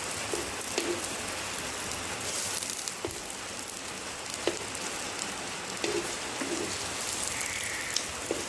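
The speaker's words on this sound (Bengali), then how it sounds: "বৃষ্টি এখনো পড়েই যাচ্ছে। আজ হয়তো পুরো দিন পুরো রাত বৃষ্টি হবে।" Steady rain falls in a continuous soft patter, with scattered drip clicks on a surface and no voices over it.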